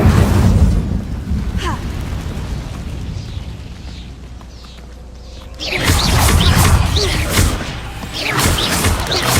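An Incendio fire spell is cast in Hogwarts Legacy, producing loud roaring whooshes and crackling bursts of flame over rumbling combat noise, with a quieter lull before a second fiery surge.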